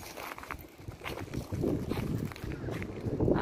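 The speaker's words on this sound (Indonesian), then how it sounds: "Angin berhembus cukup kuat sehingga suaranya terdengar sampai di sini" Strong wind blows steadily at Segara beach in Kuta, Bali, as a continuous low rumbling roar of buffeting gusts close to the microphone, with no voices.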